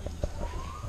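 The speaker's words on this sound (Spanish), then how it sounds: "Es una ambulancia, se salió." A faint, distant ambulance siren wails in a thin rising tone for under a second, over low background rumble.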